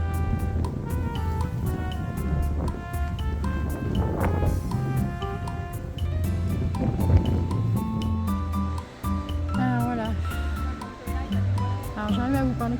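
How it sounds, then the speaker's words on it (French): Strong, blustery wind buffets the Brittany coast, roaring continuously with surging gusts while a person talks over it. "Il fait du vent, beaucoup de vent, mais ça va."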